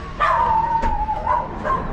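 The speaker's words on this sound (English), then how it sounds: "they're all barking at each other, so they're not happy soy dogs" Several dogs bark and whine at one another somewhere in the Chiang Mai to Hua Hin area of Thailand, with yips and whimpers rising in short bursts over about two seconds, moderately close and with no talking.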